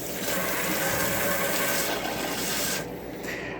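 A bathroom tap in an RV runs steadily, a close, hissing stream of water that continues throughout and eases off slightly near the end, with no talking.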